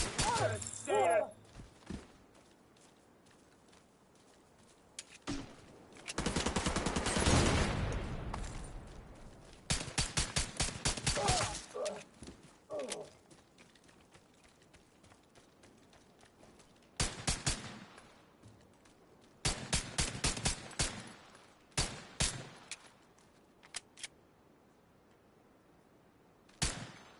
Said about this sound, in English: Some light pistol work, chat.